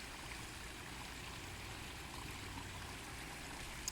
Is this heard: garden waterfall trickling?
yes